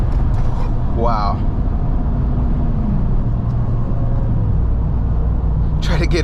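A RAM 1500 TRX pickup truck launching hard on a road, heard from inside the cab as a loud, steady engine rumble that swells and holds, with brief voices over it at the start and end.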